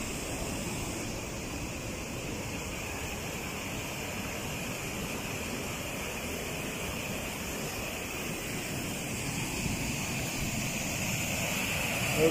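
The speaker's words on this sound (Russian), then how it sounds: "Со всех сторон вода течет." Rushing water pours on all sides over sharp rocks along a rocky stream in Karelia, a steady broadband roar filling the scene continuously and growing slightly louder toward the end, with no voices.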